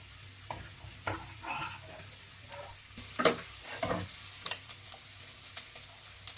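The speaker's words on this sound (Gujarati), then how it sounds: "ગુલાબી કલરની થાય ત્યાં સુધી આપણે સાતળશું ડુંગળીને।" Onions sauté in a pan for Gujarati-style dal palak, a soft close sizzle with scattered stirring scrapes and light ticks from the utensil, quiet and unhurried with no voices.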